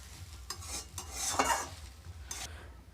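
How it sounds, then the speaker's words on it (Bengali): A spatula stirs chowmein in a hot pan after soy sauce goes in, giving soft scraping and rustling strokes over a faint sizzle, up close and without voices. "আমি এবার সোয়া সসটা দিয়ে ভালো করে নেড়ে দেবো।"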